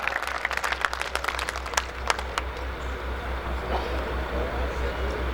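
Audience applause welcoming Urdu poet Rahat Indori on stage at a poetry gathering, a dense crackle of clapping that swells early and then thins into a lighter, steadier patter over a low hum.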